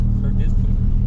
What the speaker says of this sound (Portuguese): Escuta o ronco do carro, ele não tinha esse ronco